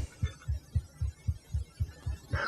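A loud, steady heartbeat thumps in deep low pulses, about four beats every two seconds, with a faint hum underneath.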